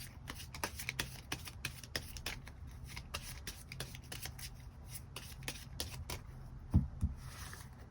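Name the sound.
tarot cards being shuffled and drawn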